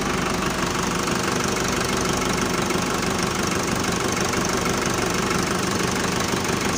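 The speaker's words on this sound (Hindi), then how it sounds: "ट्रैक्टर चूँकि गर्म है तो हम बंद नहीं कर सकते इसको।" A warm tractor diesel engine idles nearby, giving a loud, constant knocking rumble with steady vibration throughout and no voices over it.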